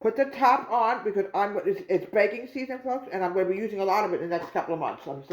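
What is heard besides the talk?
No everyday noises stand out.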